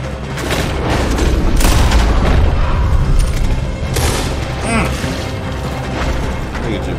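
A Red Dead Redemption 2 shootout rumbles with heavy, booming gunfire, dense and loud throughout, with overlapping shots and echoing blasts filling the scene and no clear talk.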